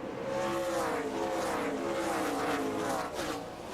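Several NASCAR Busch Series stock cars race at the 2005 New England 200, their engines droning loud and steady at close range with shifting pitch as they jostle on track, no talk over it.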